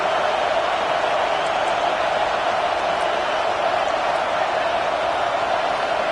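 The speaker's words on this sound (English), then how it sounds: "this home crowd is fired up and ready to make a difference today" A cheering home stadium crowd in a college football video game, Georgia Tech versus South Carolina in the playoffs, forms a steady, unbroken roar throughout with no other sounds.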